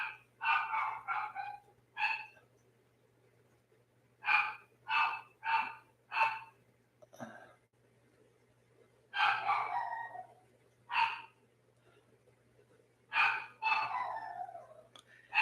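A neighbour's dog barks from across the way in clustered bursts of sharp woofs separated by pauses, heard fairly clearly indoors over a steady low electrical hum, with no one speaking.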